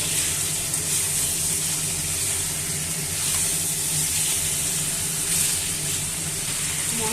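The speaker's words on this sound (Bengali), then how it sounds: "দিয়ে চিকেনগুলো দিয়ে একটু নাড়াচাড়া করবো। বেশ কিছুক্ষণ ধরে নাড়াচাড়া করে নেব।" Washed chicken pieces frying in a pan while being stirred for a Bengali chicken kasha, a continuous dense sizzle close up, steady in loudness, with no talking.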